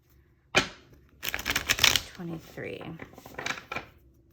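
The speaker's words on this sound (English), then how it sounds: "I'm gonna do one more shuffle" Crisp riffling and slapping of a tarot deck being shuffled, several bursts close up, with a voice speaking briefly.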